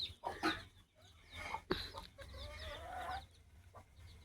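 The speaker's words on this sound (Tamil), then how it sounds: "2, 4, 6, 8, 9 கருப்பு கோழி, 2 சேவல் இருக்குதுங்க." Black chickens and two roosters roam a farm field, with close, scattered clucks and short squawks over a quiet rural background and no talk.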